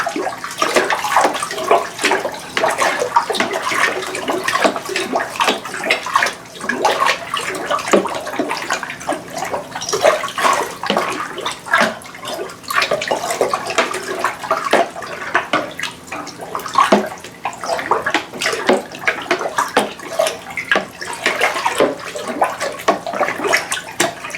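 Paper pulp slurry for homemade paper is stirred and sloshed in water, a steady busy splashing and swishing that continues for over twenty seconds with no talk.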